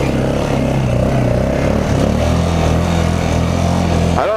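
A used ATV's small engine drones steadily and loud while being ridden across a patch of land, a constant rough hum with a brief rising rev near the end, no voices.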